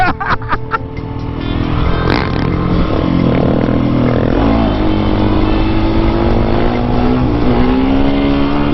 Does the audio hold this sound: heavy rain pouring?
no